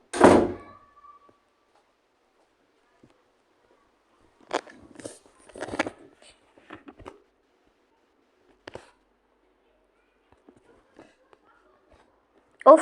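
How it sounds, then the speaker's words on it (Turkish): A door opening in the Roblox video game gives a few scattered soft thunks and clicks spread over several seconds, with quiet stretches between them. "kapı açılıyor"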